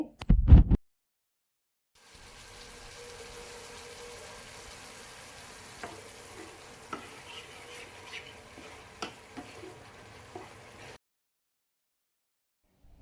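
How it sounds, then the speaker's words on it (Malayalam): A thick Kerala-style mango pickle mixture bubbles quietly in a pan, with soft pops and blips over a low, steady simmer. "ഇനി ഇത് ഇങ്ങനെ കിടന്നൊന്ന് തിളച്ചോട്ടെ"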